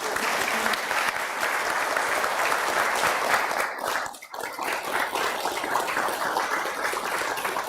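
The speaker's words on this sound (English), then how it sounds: "Big welcoming applause." An audience at a Buddhist temple's Nirvana Day service gives warm applause, dense sustained clapping from a sizable crowd filling the room, with a brief dip midway before continuing.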